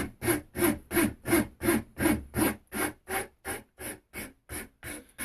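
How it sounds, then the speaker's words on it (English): Rasp or file working the wood of a longbow in steady, even strokes, about a dozen rhythmic rasping passes close up, gradually easing in force, with no talk over them. "particularly when you're using a rasp or a file"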